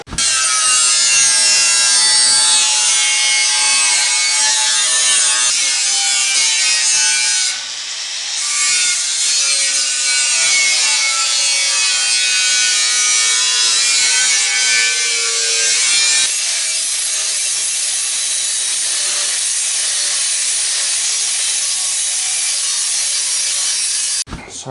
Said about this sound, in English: I think now what I want to do is actually cut this lip down